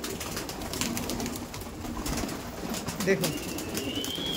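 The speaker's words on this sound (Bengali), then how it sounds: "দেখুন চলুন পার্টিকুলার পায়রাগুলো আপনার সামনে তুলে ধরি" Laldom pigeons coo softly amid a steady murmur of birds, with a brief spoken word over the flock's continuous background chatter.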